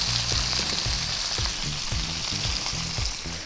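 A brioche breakfast burger sizzles on a hot grill, a close, steady hiss of frying with rhythmic crackling bursts repeating through the clip and no voices.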